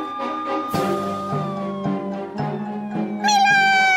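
A cartoon cat meows and caterwauls in long, wavering, pitch-sliding cries over a steady musical background, ending in a higher, louder yowl.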